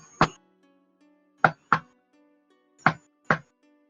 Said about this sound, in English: she knocks on a door